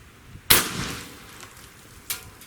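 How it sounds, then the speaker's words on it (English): A ZEUS .72 caliber air rifle fires a slug, one sharp loud crack with a short ringing tail, followed moments later by a second, fainter sharp report. "Get ready to fire this cannon."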